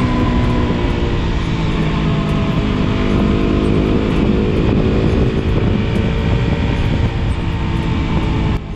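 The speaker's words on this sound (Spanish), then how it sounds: "un sonido de motor característico de KTM, RC y Duke" A KTM RC 200 motorcycle engine drones steadily while riding at speed, with heavy wind rush mixed in and a continuous strong engine note throughout.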